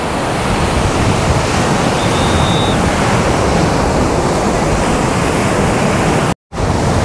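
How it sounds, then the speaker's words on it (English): Strong wind buffets the microphone on a Florida beach at Pompano Beach, a loud, continuous roar with surf mixed in, broken briefly by a cutout near the end. "I think the guard on my mic is decent enough to block a lot of the sound of the wind."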